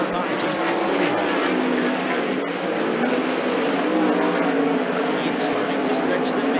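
360 sprint cars in a seven-car heat race at Skagit Speedway roar past in a continuous, loud, droning engine blare that swells slightly as the pack moves around the track.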